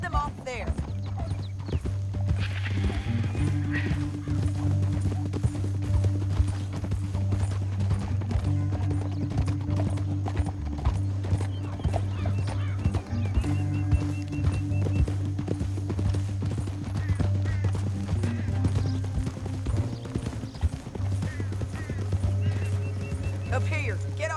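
Horses galloping in the video game Red Dead Redemption 2: a rapid, steady clip-clop of hooves with an occasional whinny, continuing throughout beneath a music bed and intermittent speech.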